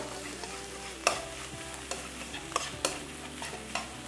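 Rice fries in a pan with a steady sizzle while a utensil scrapes and stirs it in several quick strokes, close and clear, with no talk.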